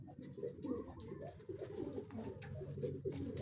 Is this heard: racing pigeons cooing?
yes